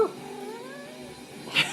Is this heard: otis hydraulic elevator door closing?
no